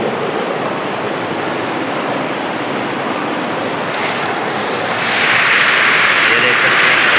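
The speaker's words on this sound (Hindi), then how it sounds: "देखो क्या बह रहा है, बहुत तेज बह रहा है" A fast-flowing river in Kashmir gives a loud, dense, continuous roar of rushing water, close by, swelling a little louder and brighter in the last couple of seconds.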